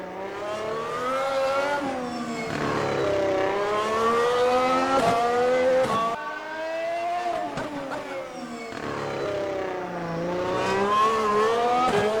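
A race car accelerates hard on the throttle, its engine note climbing through the gears in loud rising sweeps with brief dips at each shift, heard close up from onboard with no talking.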